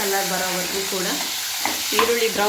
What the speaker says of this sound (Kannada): ಮುಂದೆನಾಗಿದೆ ಈರುಳ್ಳಿನ ಆ್ಯಡ್ ಮಾಡ್ತಾಯಿದ್ದೀನಿ. ಈರುಳ್ಳಿನ ಬ್ರೌನ್